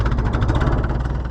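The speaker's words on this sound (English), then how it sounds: "That's about the slowest speed you'll ever see in a tractor." A slowly running ISEKI T7000 tractor engine throbs steadily up close, with a low, dense idle rumble and continuous vibration and no pauses.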